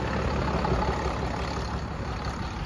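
Truck engine that had a rod through it, freshly repaired after two years sitting, running at a steady loud rumble close by with no talk over it.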